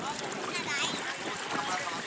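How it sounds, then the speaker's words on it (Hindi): A boat cuts through the water of the Ganges river with a soft, continuous wash and rush, fairly quiet and steady, with faint voices beneath. "नाव से पानी कट के निकल रहा है"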